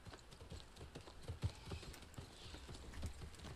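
Horse hooves clip-clop in a quick, uneven rhythm during a video game horse race, faint and steady under a soft background wash.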